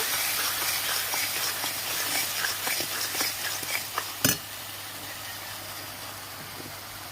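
Spices with salt and dried red chili powder fry hard in a pan for dhokar dalna, a Bengali lentil-cake curry, giving a steady close sizzle and hiss, broken by one sharp clatter near the middle.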